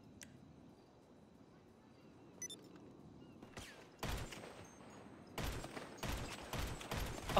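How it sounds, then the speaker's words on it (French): Gunfire in GTA 5 during a multiplayer match, loud broadband bursts from about four seconds on, coming in dense rapid volleys with brief gaps, over a quiet background with a few faint clicks earlier. "je tire sur les murs, lol"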